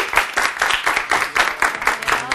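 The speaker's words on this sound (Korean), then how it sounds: "큰 박수로 맞아주시기 바랍니다." An audience applauds to welcome a guest speaker, an Air Force university professor, at a military leadership lecture, with bursts of close, rhythmic clapping throughout.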